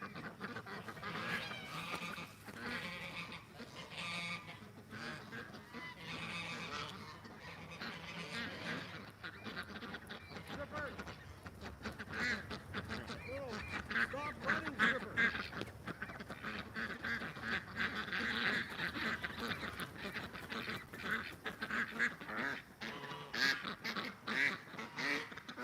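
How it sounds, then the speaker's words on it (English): A small duck quacking repeatedly in irregular bursts, some calls close and loud, with honking goose-like squawks mixed in and faint background noise throughout. "Let's see if the little duck will cooperate."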